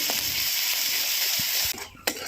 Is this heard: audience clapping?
no